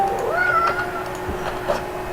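A pet cat gives a single drawn-out meow close by indoors, a rising then sliding plaintive call lasting about a second, followed by a brief faint chirp over a quiet steady hum.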